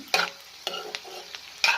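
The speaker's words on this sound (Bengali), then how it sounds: "তারপরে এটা একটু নাড়াচাড়া করে ভাজা" Spring onion stalks are stirred and fried in a pan, with a few sharp scraping strokes of a spatula, spaced apart, over a light sizzle.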